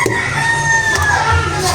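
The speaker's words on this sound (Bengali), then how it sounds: "নিচে অনেক মুরগি ডাকতেছে।" Chickens crowing and clucking from below a home kitchen on a rainy day, a rooster's call carrying steadily through the short stretch with no talk over it.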